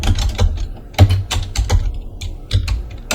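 Typing on a computer keyboard while working in a spreadsheet, a close, uneven run of crisp key clicks with occasional heavier taps, no talk.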